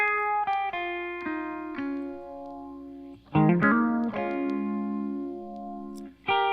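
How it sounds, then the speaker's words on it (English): Reamped electric guitar track run through a phaser effect: clean plucked notes and a strummed chord, swirling and sweeping, with moderate loudness and no voices. "let's go hear this phaser in action"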